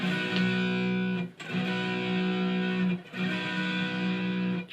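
An electric guitar with only light distortion plays a riff as three long, ringing full chords, each cut off by a brief gap before the next, close and alone with no talking.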